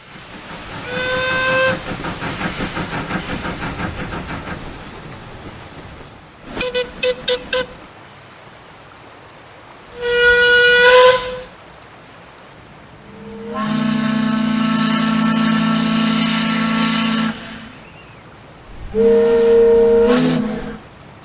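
A Scottish 903 class steam locomotive whistle in Train Simulator sounds in five separate loud, clear blasts. Some are short and stuttering, others long and sustained, with quiet gaps between them.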